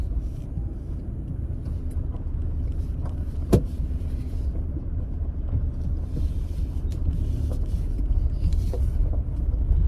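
A two-wheeler ridden on a road near Bidadi gives a steady, close engine rumble with road noise throughout, broken by one sharp click partway through; no one speaks.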